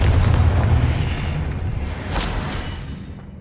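A fiery spell explosion from the video game Hogwarts Legacy erupts as a heavy, loud boom that rumbles and decays over a few seconds, with a fainter second burst partway through and no voices.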